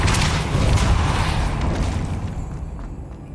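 Depulso spell cast in Hogwarts Legacy, a loud whooshing burst with a booming impact up front that trails off into a fading rumble over a few seconds.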